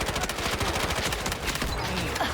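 Rapid automatic gunfire from an SMG in the video game Delta Force, a dense burst of close, loud shots fired continuously with no pauses.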